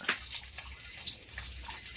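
Water flows steadily at home, a continuous close hiss and splash filling the short moment without any voices.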